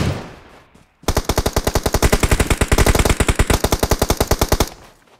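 Gunfire in a shooting video game: one long, loud, close burst of rapid automatic fire, steady and evenly spaced for several seconds before cutting off.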